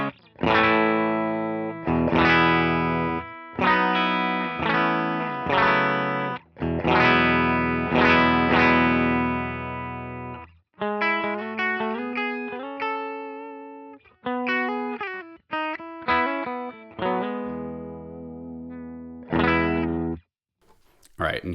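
A clean electric guitar with a compressor plays strummed chords, then single picked notes and short phrases, each note even and sustained, with brief pauses.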